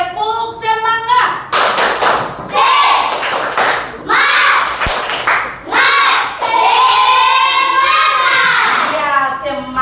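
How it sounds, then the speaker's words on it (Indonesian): Schoolchildren in a classroom perform a rhythmic spirit clap, bursts of patterned hand claps mixed with children's chanting voices, loud and close, with a teacher's voice in between. "tepuk semangat"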